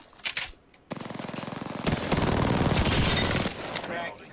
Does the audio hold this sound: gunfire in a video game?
yes